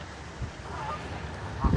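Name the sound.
ducks quacking and honking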